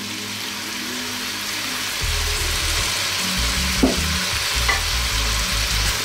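Fish sauce and tomato sauce sizzle steadily in a pot for chicken pochero, a loud, dense frying hiss that picks up after a couple of seconds, with a few faint utensil clinks and no voices.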